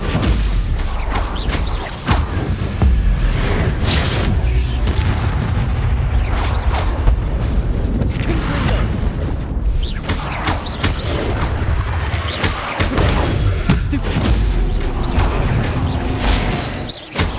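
Confringo blasting-spell explosions in Hogwarts Legacy on PS5 go off repeatedly, in loud booming bursts and crashes at an irregular pace, layered over dense continuous combat noise.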